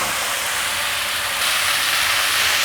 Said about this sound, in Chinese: 现在放入高丽菜